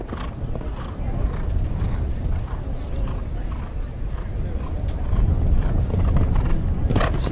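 A horse's hooves thud and clip-clop across the ground during a show jumping round at an eventing Prix, along with a scattering of creaks and louder hoof strikes near the end.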